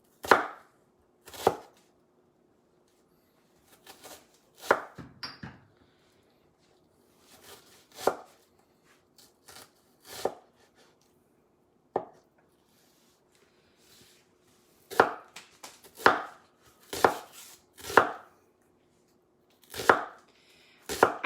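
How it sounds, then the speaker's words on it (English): A knife slices onions thinly on a cutting board, with sharp, close chops in irregular bursts separated by quiet pauses. "I tend to do my onions pretty thin because I like them to be thin."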